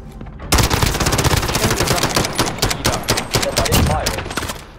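M4 rifle gunfire in Call of Duty Modern Warfare, rapid automatic bursts rattling loud and near for most of the clip, with players talking over it.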